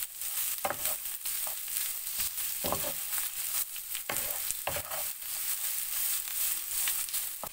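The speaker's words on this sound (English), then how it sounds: "To this, add the peelings of Ridge Guard." Ridge gourd peelings frying in a pan, a steady close sizzle broken by several sharp scrapes of a spoon stirring them, with no talk.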